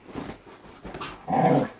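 A dog growls near the listener in short low rumbling bursts, the loudest and longest coming at the end.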